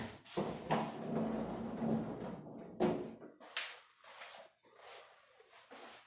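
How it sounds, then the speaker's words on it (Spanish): A door being shut firmly in an indoor room, heard as a few sharp knocks and clatters with quiet gaps between them, close by and fairly loud, with no voices. "voy a cerrar bien la puerta para que evitemos los ruidos"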